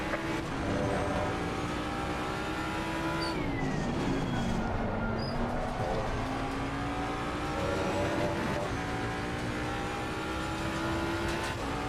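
Race car engine in a sim racing game at Monza, driven with a controller: a loud, continuous engine whine with gear shifts and pitch sweeps, plus tyre and passing-car noise layered underneath, with no voices.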